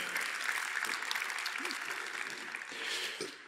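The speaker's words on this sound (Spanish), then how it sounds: "le pido por favor un aplauso para Digital Bank" Steady audience applause at a Bogotá fintech conference presentation, a continuous dense patter of many hands clapping at moderate distance, holding evenly throughout with a slight swell near the end.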